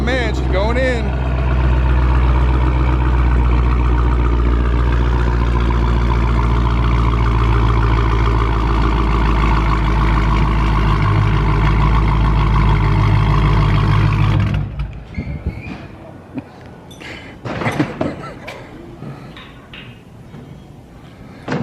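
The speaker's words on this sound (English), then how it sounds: "I love the way this car sounds." A Dodge Hellcat tuned toward 1000 horsepower runs loud and close, its deep steady engine drone holding for about fourteen seconds before cutting out, followed by a few scattered knocks and clunks.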